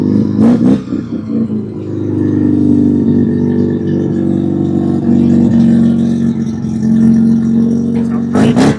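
A rotary-engine car starts with a brief burst, then settles into a steady, loud idle with a buzzy, slightly rattling drone close by, with a short blip of revving at the end.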